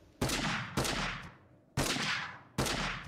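Gunfire in the battle royale game Totally Accurate Battlegrounds: four sharp, loud shots in an uneven rhythm, each with a long decaying reverberant tail, with no talk over them.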